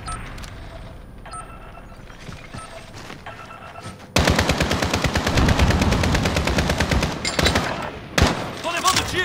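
Rapid bursts of automatic gunfire from Call of Duty: Warzone, loud and continuous after a quieter stretch, with scattered single shots and cracks near the end.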